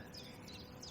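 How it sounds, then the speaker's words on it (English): Birds chirp in short bursts beside a canal over a steady outdoor background hum, the calls light and somewhat distant. "listening to the birds chirping"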